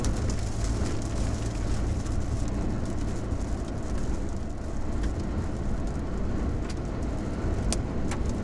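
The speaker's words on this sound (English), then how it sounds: "Oh, we get some small hail. I can see it collecting on the road already." Small hail patters steadily on a road and vehicle during a North Texas thunderstorm, a dense, continuous rattle with occasional sharper ticks and a low rumble, heard from inside a vehicle with no voices.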